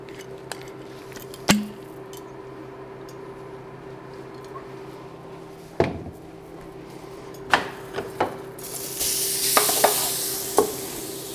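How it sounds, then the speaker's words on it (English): Chopped garlic sautéing in avocado oil in a pan, a low steady sizzle with scattered clicks and scrapes of stirring, louder frying toward the end, no talk. "We're going to start with sauteing the garlic."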